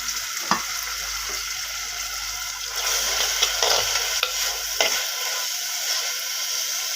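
Tomatoes, onions, curry leaves, mint and ginger-garlic paste sizzle and fry in a pan for chicken curry, a steady crackling hiss broken by a few clinks and stirring scrapes.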